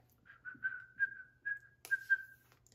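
A person whistles in imitation of a chickadee's call: a short run of soft, clear, steady notes on one pitch, with small gaps between them, alone in a quiet room.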